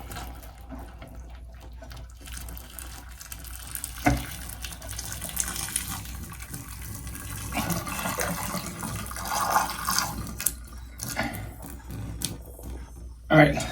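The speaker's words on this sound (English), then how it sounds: "Pour hot water down there." Boiling hot water is poured down a clogged drain, giving a splashing, gushing rush with bursts and gurgles of varying strength. Someone talks now and then.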